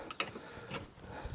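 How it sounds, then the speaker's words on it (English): A wrench works a lock nut on the track adjuster of a Chinese mini excavator, giving a few faint ratcheting clicks and light metallic ticks in a brief, quiet burst. "make sure you tighten the lock nut again"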